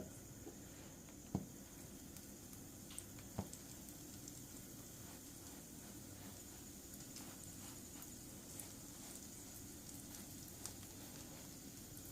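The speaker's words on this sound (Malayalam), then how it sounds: "അതേ ഇതിൽ തന്നെ ആ എണ്ണയിൽ തന്നെ നമ്മളിതൊന്ന് ഫ്രൈ ചെയ്തെടുക്കണം" Mutton cutlet frying in hot oil in a home kitchen, a faint, steady sizzle with a few soft clicks and taps from the pan, no talking.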